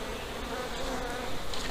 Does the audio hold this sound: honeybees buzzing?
yes